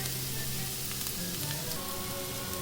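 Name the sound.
shrimp and garlic sizzling in butter in a pan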